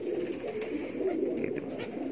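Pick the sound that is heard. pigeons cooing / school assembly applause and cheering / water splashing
pigeons cooing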